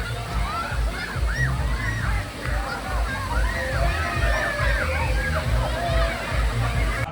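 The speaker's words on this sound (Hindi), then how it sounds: "हाथों से पिचकारी बनाकर पानी उड़ाने का।" Water splashes and sloshes continuously as it is squirted from cupped hands at a waterfall in a water park, mixed with the steady rush of falling water and chatter of people nearby.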